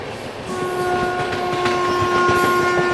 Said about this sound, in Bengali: এই হচ্ছে নিউ দিল্লিতে আসার পরে লোকাল ট্রেন,